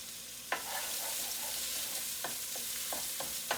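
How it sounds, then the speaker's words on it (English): Chopped meat and onions sizzling in a frying pan, a steady close hiss broken by several sharp clacks of stirring, with no talk. "and then I'm gonna put the chopped meat in. I just want the onions to have a place to go."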